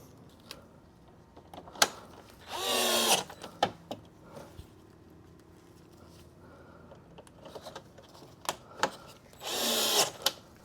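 Power driver running screws back into a Subaru WRX STI Type RA front grille: two separate whirring bursts of a few seconds each, spaced apart, with light clicks and handling knocks between them, close by.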